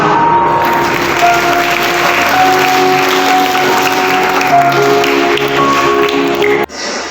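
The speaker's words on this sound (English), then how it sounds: "Great applause, Kisan Samir." An audience at a school arts day cultural festival applauds in a dense, loud, continuous wash of clapping with sustained musical tones beneath it, cutting off abruptly near the end.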